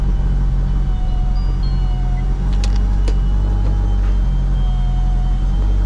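The engine of a Honda CU2 car, fitted with a new clutch, idles steadily and loudly up close, a constant low drone with a faint whine and a few brief clicks as it warms up.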